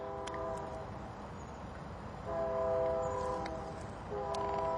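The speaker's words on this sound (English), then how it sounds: "So that train whistle you hear, that passed right by the where the old cemetery" A train whistle sounds in the distance near a cemetery, blowing two long, steady chord-like blasts separated by a pause, faint and far-off over outdoor wind and ambient noise.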